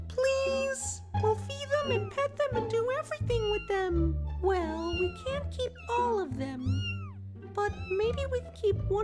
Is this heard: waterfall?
no